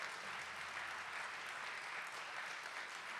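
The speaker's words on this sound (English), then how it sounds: "give these young adults" Audience at a high school spring band concert applauds, a dense, steady wash of clapping that holds evenly throughout, heard from some distance and fairly soft.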